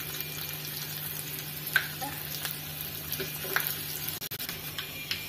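Asafoetida sizzles in hot oil as a tempering with dried red chillies and crushed garlic for a horse gram curry, a steady close crackling fry with a few utensil knocks and no talk.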